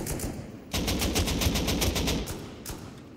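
Automatic gunfire in the video game Rust Console Edition during an online raid, a rapid, loud burst of rattling shots that starts abruptly, holds for over a second and returns briefly after a short gap.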